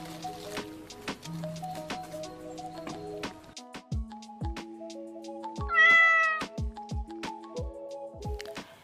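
A cat meows in a forest, its cries rising over sharp clicks and knocks, with one long, loud, wavering meow standing out close by.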